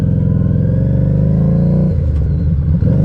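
A motorcycle engine revved hard up close, a loud steady throbbing drone that drops and stutters near the end before picking back up, with no voices.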